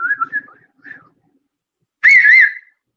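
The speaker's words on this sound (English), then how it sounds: "I can whistle several ways" A person whistles a short, wavering tune, loud and close, after a few faint softer warbling whistles; no other sounds around it.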